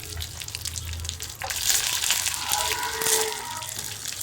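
Loud hot-oil sizzle as mustard seeds, two red and green chillies and curry leaves hit the pan for a chutney tempering, crackling up sharply after a quieter start and staying steady.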